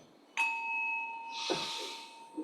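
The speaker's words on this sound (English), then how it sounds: "Hit the bell." A meditation hall bell is struck once, close by, giving a sharp onset and then a clear, sustained ringing tone that resonates on. A soft breathy rush rises partway through the ring.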